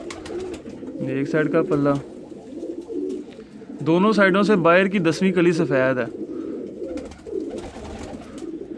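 A pigeon, a fledgling teddy-type bird being handled, coos in repeated rolling phrases close by while someone talks over and between the calls.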